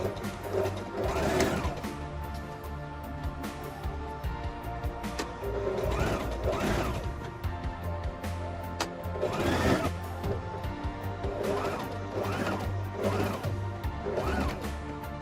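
A home sewing machine runs in several short bursts while stitching a flared half-circle maxi skirt, each run a steady mechanical whir with pauses between, fairly close and moderately loud.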